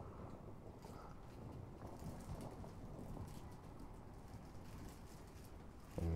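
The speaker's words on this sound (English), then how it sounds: "That's a storm." Storm wind in the video game Fortnite, a faint, steady, broad rushing roar that continues unbroken throughout with no talk.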